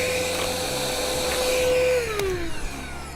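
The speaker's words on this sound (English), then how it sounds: "I wouldn't call it loud for a vacuum, but it also doesn't suck very much." A handheld mini vacuum cleaner runs with a steady motor whine and airflow hiss, its pitch dropping slightly near the end as it is pressed down, close and moderately loud with no talking.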